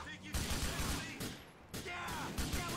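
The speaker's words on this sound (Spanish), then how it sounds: "Mientras les disparo con una metralleta." Machine gun fire from GTA IV: The Lost and Damned comes in bursts of rapid gunshots, loud and close, separated by short gaps, with game background sounds between them.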